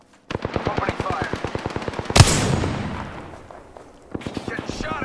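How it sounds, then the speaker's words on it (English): Automatic weapon fire in the video game Apex Legends, a rapid burst of evenly spaced shots, a sharp louder blast, then a pause and a second short burst. "Opening fire."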